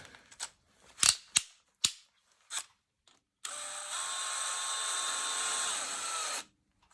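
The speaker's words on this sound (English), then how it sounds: "I'll be using a drill, but it's just to get these bolts going." A few sharp clicks and short bursts, then a steady high-pitched power drill whine running for about three seconds before stopping abruptly, loosening bolts on a Ford 302 engine.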